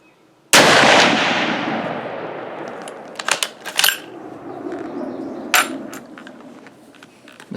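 A single loud, sharp Mauser 98 rifle shot cracks out close by, then rings off in a long decaying echo, with a few metallic clicks and clatters of the action afterward.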